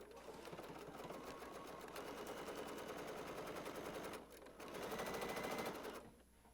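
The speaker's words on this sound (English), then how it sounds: "I'm going to sew from here to here." Sewing machine stitching quilt fabric, a fast steady mechanical rattle running almost continuously, with a brief pause and then a louder burst before it stops near the end.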